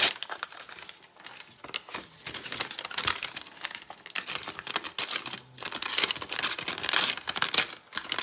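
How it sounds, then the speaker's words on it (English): Packing paper crinkles and tears by hand, with a run of close, crisp rustles and rips that swell and fade, louder bursts near the start and toward the end. "I'm just going to tear a piece of this"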